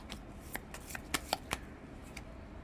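Tarot cards shuffled by hand before a card is drawn, a quick run of crisp riffling snaps and flicks, close and fairly quiet.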